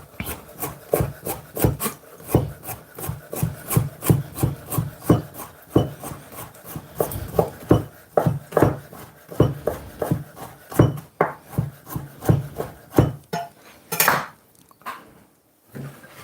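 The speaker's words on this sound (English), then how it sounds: "I'm just gonna trim it up, take off the fat, and then I want to cut them alongside like this." Knife trimming fat from a sirloin steak and slicing it on a cutting board, a close run of rapid, rhythmic chopping and scraping strokes that goes on throughout, with a few pauses and louder knocks near the end.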